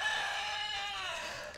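A rooster gives one long, loud crow close by, held and slowly fading with no voices over it.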